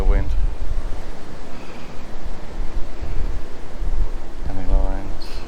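Wind blows hard outdoors at Belas Knap near Winchcombe, a constant roaring buffet across the microphone throughout, with brief tonal sounds near the start and end.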